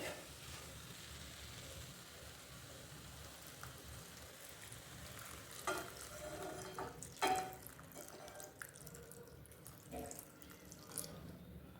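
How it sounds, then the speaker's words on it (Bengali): Red Cow milk pours into carrot halwa in a pan, a soft continuous trickling and splashing that grows a little louder in bursts toward the end, faint and close. "চলো এবার দুধটা ঢেলে দিই।"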